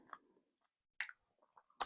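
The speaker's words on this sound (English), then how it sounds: "I got a mouthful of food" Soft, wet chewing of a mouthful of food, a few brief squishy bites spaced apart with quiet gaps between them, close to the microphone and faint overall.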